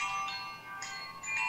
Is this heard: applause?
no